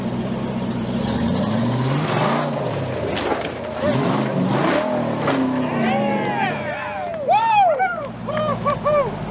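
A Jeep climbing a rock pile on an off-road trail at a safari event, with a mid-pitched engine rumbling and revving close by as voices talk over it.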